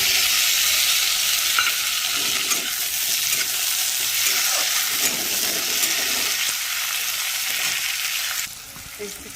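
Reddened onions sizzle loudly in a pan as tomatoes are added and stirred, a dense steady frying hiss that drops off sharply near the end.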